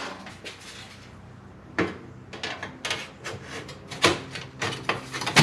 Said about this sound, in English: all we have to do now is put the cover back in place